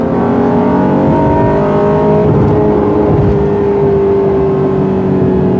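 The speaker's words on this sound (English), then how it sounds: "280 horsepower running through a 9-speed automatic and all-wheel drive. Moves out pretty good." Loud, steady engine drone from inside a 2021 Honda Ridgeline pickup, 280 horsepower, 9-speed automatic, all-wheel drive, as it accelerates, pitch gradually rising with a smooth continuous hum.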